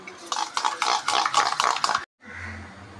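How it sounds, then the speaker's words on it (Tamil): Yogurt being stirred with salt, chili powder and turmeric in a bowl for a paneer tikka marinade: a spoon scrapes and taps in quick rhythmic strokes for two seconds, breaks off briefly, then gives way to a softer, steadier rustle. "அதில் ஒரு பிஞ்சு சால்ட்டு, காரத்துக்கு ஏற்ற மாதிரி கொஞ்சம் மிளகா பொடி, கொஞ்சம் மஞ்சள் பொடி போட்டு நல்லா மிக்ஸ் பண்ணிவிட்டு"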